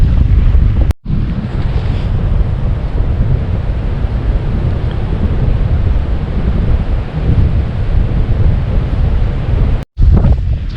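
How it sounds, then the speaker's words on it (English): Strong, steady wind off the lake buffets a campsite at Lake Carlos State Park, a loud continuous roar with heavy low rumble, broken by two abrupt brief drops near the start and end. "It is 20 miles an hour winds."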